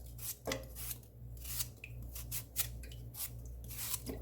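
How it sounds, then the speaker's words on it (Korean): Rapid, repeated scraping and rasping strokes of a knife shaving radish into a pot, close by over a low steady hum. "냄비에 무를 조금 이렇게 삐져 넣어줍니다."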